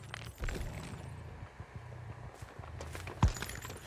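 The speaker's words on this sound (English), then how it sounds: "Had to be quiet there so we can listen out for the footsteps and the breathing." Character footsteps in the Dead by Daylight horror game come as a string of soft, close steps over a low ambient hum, with one louder thud near the end and no talking.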